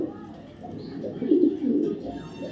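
A racing pigeon of good lineage, a 2022 BRPOA club bird, gives a soft, low, rolling coo that swells in the middle and fades, close by and alone.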